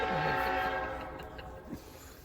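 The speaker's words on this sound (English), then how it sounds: "The whistle on that diesel is sounding" Whistle of a diesel locomotive approaching a railroad tunnel at Tunnel Hill, a sustained distant horn tone fading out over a couple of seconds with faint rail rumble and a brief voice beneath.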